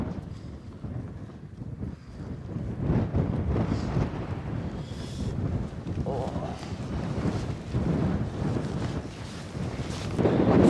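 Gusty wind on a mountain ridge in Kintail in the North West Highlands, buffeting the microphone in rough, rumbling surges that swell and ease, loudest near the end.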